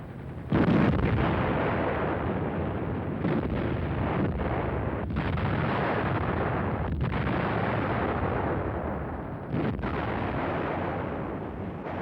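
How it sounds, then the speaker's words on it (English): Guns of a 105mm artillery battery fire in a dense, continuous roar of heavy booms and rumbling blasts that stays loud for the whole stretch, with no voices. "these 105mm gun crews had to load and fire their guns day after day"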